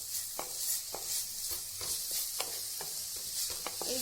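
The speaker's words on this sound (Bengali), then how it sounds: "করে নাড়তে থাকবো যতক্ষণ না ভাজা হতে থাকবে।" Fried rice being stir-fried in a pan, a soft continuous sizzle under repeated scraping strokes of a utensil at an irregular pace, close and fairly quiet.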